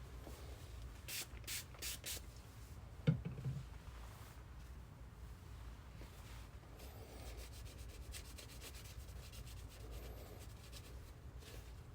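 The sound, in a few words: rubbing clean the temples of eyeglasses frame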